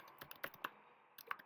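Keystrokes on a computer keyboard as a prompt is typed into an AI chat assistant, a quick burst of close, crisp clicks, a pause, then a few more taps, with no one speaking.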